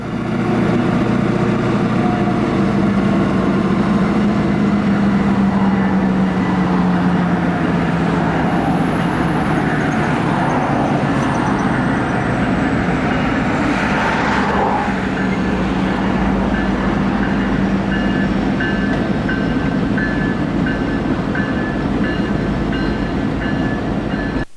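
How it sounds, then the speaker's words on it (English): A Norfolk Southern GP59E diesel locomotive, number 4661, switching in a rail yard with a slug unit and a GP38-2: steady loud engine roar and rumble, a long high squeal, and faint horn tones, continuous and without talking. "the 4661, which we can see here conducting its switching duties along with the slug unit and the"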